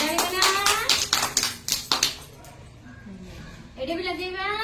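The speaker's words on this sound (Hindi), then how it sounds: "वेरी गुड ताली बना" Group of children clapping their hands during a classroom activity, a burst of six or so sharp, close claps with an adult voice speaking around them.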